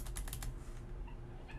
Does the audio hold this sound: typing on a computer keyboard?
yes